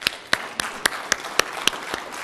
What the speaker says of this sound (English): we're going to give them a small round of applause because we're happy with this product